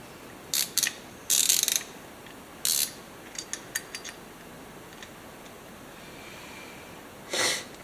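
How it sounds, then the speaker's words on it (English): A 5/16-24 fine thread tap is worked through damaged threads on a 1954 Farmall Cub tractor. The close, dry metallic ratcheting clicks come in short irregular bursts with quiet pauses between them. "I had to find a 5/16 24 fine thread tap"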